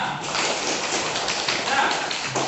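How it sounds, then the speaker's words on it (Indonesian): A classroom of children clapping their hands together, a dense, steady patter of many quick claps that holds for a couple of seconds at moderate distance. "Tepuk tangan semuanya."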